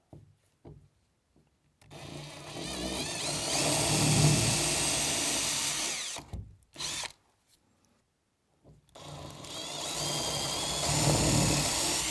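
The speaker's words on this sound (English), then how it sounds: "I'm going to start with a 9mm masonry drill bit with the drill onto a masonry setting and drill in where my holes are drawn on the wall" A power drill fitted with a 9mm masonry bit, set to masonry mode, bores into a bathroom wall in two loud, sustained bursts of grinding whine, separated by short pauses and a brief blip of quiet.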